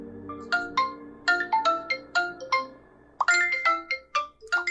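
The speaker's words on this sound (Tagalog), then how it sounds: "biglang tumunog ang kanyang cellphone" A cellphone ringtone plays a bright, repeating electronic melody of quick plucked-sounding notes in two phrases separated by a brief pause, loud and close with no talking.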